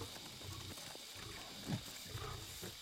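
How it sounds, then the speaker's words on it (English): A tiger at dusk, near a cage at night, lets out low rumbling growls and breathy snorts against a steady background hiss, with one louder grunt midway. "The first tiger came at dusk."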